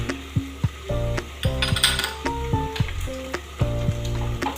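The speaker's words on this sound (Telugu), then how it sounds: "ఇదిగోండి పోపు. దీనిలోకి మినపప్పు, ఆవాలు, జీలకర్ర." Urad dal, mustard seeds and cumin sizzle and pop in hot oil during tempering, a steady crackle punctuated by sharp clicks and clatter from the pan.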